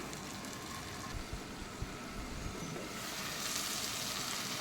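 Finely chopped tomato sautés under a lid in a pan for a curry-leaf gravy, giving a steady, soft hiss of sizzling that swells slightly toward the end, with no talk.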